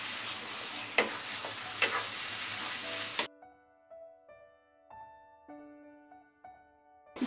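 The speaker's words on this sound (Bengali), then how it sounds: "মিডিয়াম আঁচে ভালো করে নেড়ে নেড়ে মিশাতে হবে এবং ভাজতে হবে।" Raw banana peel mash with mustard paste stir-fried over medium heat, a strong hiss and sizzle with scraping stirs for three seconds, then cutting to quieter pan sounds with faint tonal ringing.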